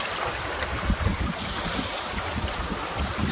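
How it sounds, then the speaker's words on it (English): Strong wind gusts buffet the microphone aboard a small reefed sailing dinghy, a continuous loud rushing roar with thumping low bursts and water noise, no voices. "Quite a few gusts coming in through here."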